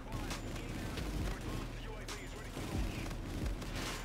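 Epic Auger Pumpkin Pummeler gun in a shooter game firing continuously: dense, rapid crackling bursts and booms blur into one another, with a voice talking over the barrage.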